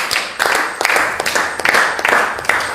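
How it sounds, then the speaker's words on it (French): A church class audience applauds loudly for a sister, close, crisp handclaps in energetic repeated bursts that swell and dip over a few seconds. "on applaudit très fort pour notre soeur encore"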